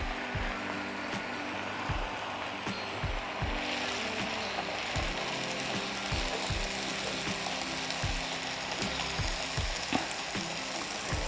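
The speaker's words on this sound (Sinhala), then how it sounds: "හොඳට බැදෙනකම් අපිට කොකිස් අච්චුවේම මේක තියාගන්න පුළුවනි." Kokis batter deep-frying on a non-stick kokis mould in hot oil, a steady bubbling sizzle with intermittent soft knocks and clicks, close and alone.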